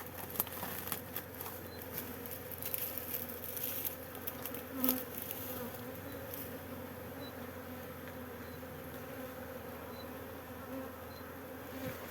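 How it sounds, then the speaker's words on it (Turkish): Honeybees swarm at a beehive, producing a dense, continuous buzzing hum with individual bees whizzing close by, steady and moderately loud with no voices. "Evet arkadaşlar arıyı aldık kovana. Şu anda hepsi içeride."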